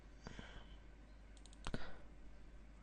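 Mouse clicks at a computer while installing the game Metal Gear Rising: Revengeance, a couple of sharp close clicks early and a tight double click near the middle, over quiet room noise with no talk.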